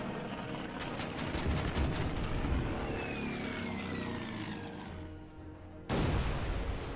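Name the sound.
torpedo bomber attack explosions in video game Order of Battle Pacific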